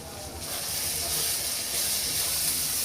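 Fish curry with lemon leaves frying in a pan, giving a loud, continuous sizzling hiss that stays steady throughout with no talking.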